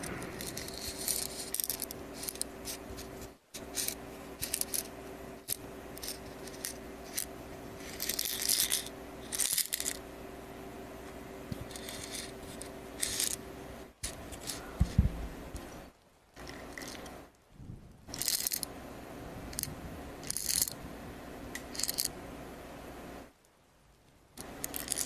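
Quiet handling of a plastic drawing tablet nib holder full of pen tips, with small clicks, taps and rattles coming in short bursts and pauses, close to the mic and without talk.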